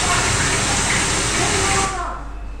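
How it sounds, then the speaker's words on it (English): Natural waterfall sound used as an example in a lesson: a steady, loud, broadband rush of falling water filling the clip, easing off and thinning out near the end. "A waterfall sound is?"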